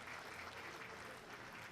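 Faint, distant audience clapping in a show arena at the Gillespie County Youth Livestock Show cattle class, a soft steady patter of many hands under a low background hum.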